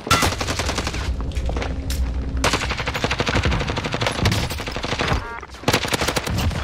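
Rapid automatic gunfire from Call of Duty: Warzone, loud dense bursts of shots that run almost without pause, with a brief lull near the end before the firing resumes.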